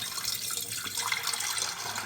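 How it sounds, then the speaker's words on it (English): Water drained from a toilet tank pours and splashes steadily into a pot, a continuous gushing close by with no voices. "pull this down, and out comes the water."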